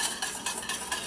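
Water with vinegar stirred in a pot for poaching an egg, a soft continuous swishing with faint scraping, close and steady with no talk.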